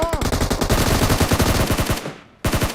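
Rapid automatic gunfire from the PUBG battle royale game, a loud sustained burst of closely spaced shots that breaks off briefly, then resumes for a few more rounds.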